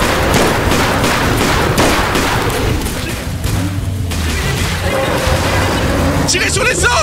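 Gunfire in the video game Bigfoot: loud, dense booms and rattling shots that keep going through the clip while voices talk over the din.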